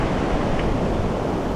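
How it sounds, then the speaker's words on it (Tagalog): Large sea waves crash and surge against the shore in the Philippines, a steady, loud, broadband wash of surf that fills the whole moment without a pause. "Unti-unti na naman nagagalit ng dagat. Nagpapalo na naman ang mga malalaking alon."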